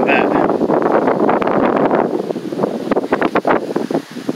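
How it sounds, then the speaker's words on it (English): Strong wind gusting outdoors in hot weather, a steady broad roar buffeting the microphone close up, easing off near the end into shorter rustling bursts. "Wind picked up, feels good."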